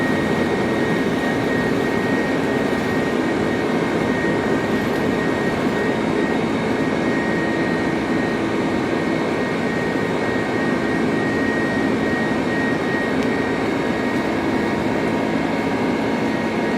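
Qatar Airways jet engines make a steady, unbroken roar during departure, loud and constant throughout with no voices.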